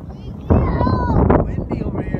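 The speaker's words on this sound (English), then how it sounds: "It's really windy." Strong wind buffets the microphone on a family hike beside Decew Falls, a steady loud roar of gusts and rushing air, with people talking over it.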